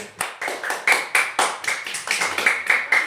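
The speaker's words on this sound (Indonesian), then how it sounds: "Beri tepuk tangan dulu untuk kelompok 1." Classroom students clap for a presenting student group in a rhythmic, evenly spaced beat, about a dozen sharp claps close by over three seconds with no talking.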